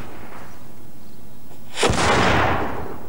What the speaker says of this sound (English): So what you've got to do is burn it in a confined space and then channel the explosion down a barrel.